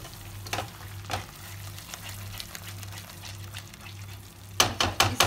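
Paneer masala fries in oil that has begun to separate, giving a low steady sizzle, with occasional stirring scrapes and a cluster of sharp utensil clinks near the end.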